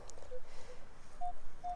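A metal detector gives short high-pitched ringing beeps over a faint hiss, about four brief tones with the last two longer and stronger, suggesting a bottle cap at some depth.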